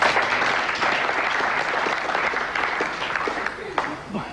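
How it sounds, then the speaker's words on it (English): An audience at a football debate at Elland Road gives brief, subdued applause, scattered claps thinning out while a voice speaks over them near the end. "Muted applause."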